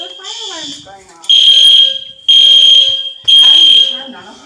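A fire alarm blares at close range in a shelter, sounding three loud, shrill, piercing tones in a steady repeating pattern while people talk beneath it.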